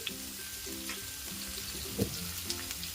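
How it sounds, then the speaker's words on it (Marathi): Raw green mango pieces frying in oil with turmeric, a close continuous sizzle with soft stirring scrapes and a few sharper clicks of the utensil against the pan, no voices present. "आता आपली कैरी तेलात छान परतलेली आहे."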